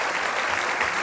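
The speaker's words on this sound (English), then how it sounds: "How about a huge round of applause?" A concert-style crowd applauds in memory of a guitarist, a dense, steady wash of clapping that fills the whole brief moment.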